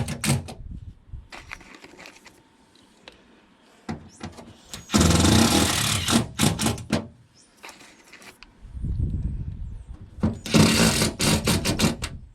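A power saw cuts a traced curve in a panel for a DIY kitchen in an 80 Series Land Cruiser, coming in loud, close bursts of buzzing separated by short pauses and quieter handling sounds.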